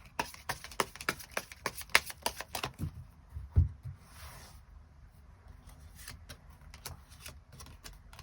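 Tarot cards are shuffled and drawn nearby, a rapid run of crisp riffling flicks and taps for the first few seconds, then sparser soft slides and single snaps as cards are laid out, with no talking.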